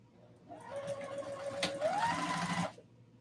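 A sewing machine runs in one short burst of stitching, a quick mechanical whir rising and then stopping, close and fairly quiet.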